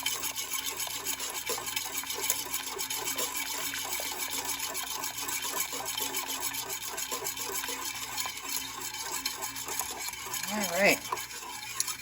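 A spoon stirs German chocolate pie filling in a pot, with steady scraping and rubbing strokes running throughout, close and moderately loud, and a brief spoken remark near the end.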